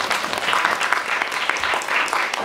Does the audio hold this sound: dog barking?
no